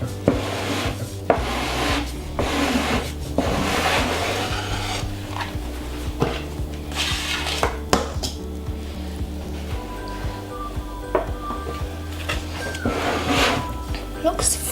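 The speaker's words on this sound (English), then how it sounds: "I'm going to grab a cake scraper and just work it around the edge." A cake scraper working frosting smooth around the edge of a chocolate cake, soft repeated scraping and rubbing strokes over a steady low background hum.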